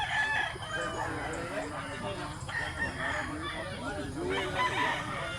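Gamecock roosters crow repeatedly, several long calls overlapping at mid distance, with faint voices in the background, in Mantalungon, Barili, Cebu.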